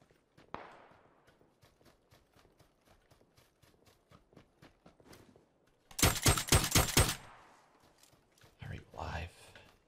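Video game gunfire comes in a sharp rapid burst midway, loud and close, after a stretch of light rhythmic footsteps, with another short burst near the end; a voice talks over parts of it.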